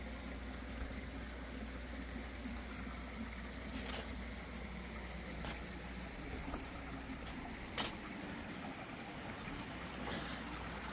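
A lit backyard waterfall on a snowy night gives a steady, faint rush of falling water, an even wash of sound with a few soft clicks and no voices.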